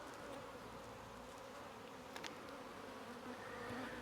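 A honeybee swarm hums in a continuous, dense buzz close by, the steady drone filling the whole stretch with individual bees flying past nearer the microphone now and then.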